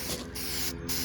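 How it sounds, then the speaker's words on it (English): Aerosol spray paint hissing onto a plastic car bumper under repair, two or three close bursts of bright hiss separated by brief gaps, no talking. "Spraying this really doesn't matter."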